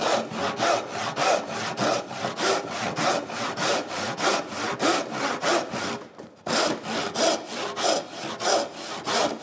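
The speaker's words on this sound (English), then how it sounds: "And my handsaw. So I'm going to cut my tenon wide." Handsaw cutting a wooden tenon at a workbench, a steady rhythmic series of close, loud push-and-pull rasping strokes with one brief pause partway through, no talking.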